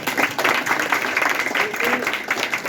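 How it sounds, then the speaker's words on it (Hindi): An audience at a quiz-style class event applauds, a moderately loud, uneven patter of clapping hands with some voices mixed in. "ताली बजाइए भाई"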